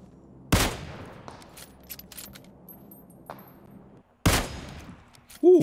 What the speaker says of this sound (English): Ooh, that was a sick shot.